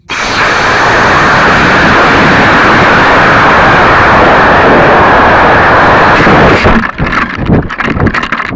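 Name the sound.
Lego model rocket ignition and launch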